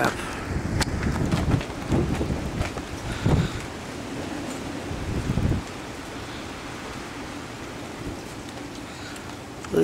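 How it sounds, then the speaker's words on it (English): Thunder during a rainstorm: a few low rumbles roll through in the first half, over a steady wash of rain and gusty wind noise that continues alone afterward. "They said we may get a rumble or thunder or two."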